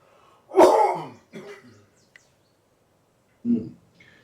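A sharp, harsh cough close by on a golf course, followed by a smaller throat-clearing rasp and another short cough after a pause.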